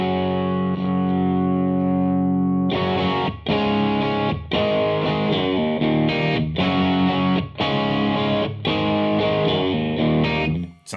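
An electric guitar, a Jazzmaster with Duncan Antiquity pickups, runs through a Marshall Blues Breaker overdrive pedal. It plays driven, sustained chords in a repeated rhythmic pattern, loud and close with short gaps between phrases.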